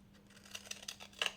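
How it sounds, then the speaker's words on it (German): Scissors snipping a small paper cover for a junk journal, a quick run of about six soft, close cuts in a second and a half, with a low hum behind and no voices. "Ich mache jetzt das mit der Schere."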